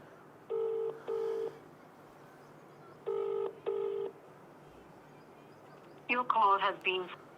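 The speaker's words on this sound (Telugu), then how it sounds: "ఒకసారి మళ్ళీ కాల్ చేసే ప్రయత్నం చేస్తా" A phone ringback tone sounds in two double bursts with a pause between them, followed by a short electronic-sounding voice near the end.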